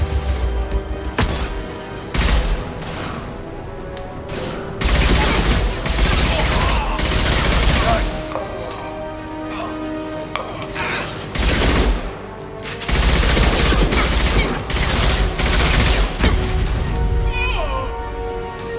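Combat gunfire in Mass Effect 2 rattles in repeated loud bursts of rapid shots separated by brief pauses, close and punchy, with occasional crashes and some talk mixed among the volleys.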